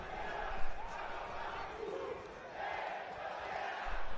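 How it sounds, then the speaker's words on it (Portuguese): Football stadium crowd at a Paranaense championship quarter-final, Cascavel against Maringá, jeering the linesman: a broad, steady roar of many voices with swelling shouts, continuous throughout and fairly loud. "Torcida ali pegando no pé do Bandeirinha"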